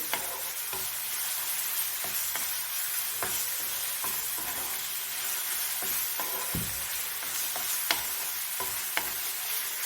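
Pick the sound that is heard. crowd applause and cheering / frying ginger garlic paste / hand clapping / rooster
frying ginger garlic paste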